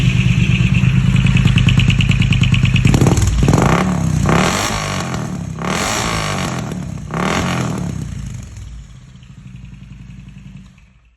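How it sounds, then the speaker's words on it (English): A Triumph Speed Twin 900 motorcycle with a loud aftermarket exhaust revs hard close by, rising in three or four sharp blips over a steady idle before settling back to a rumbling idle. "this exhaust is quite loud"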